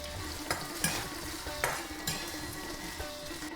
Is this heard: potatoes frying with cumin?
yes